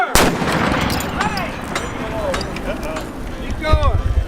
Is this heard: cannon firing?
yes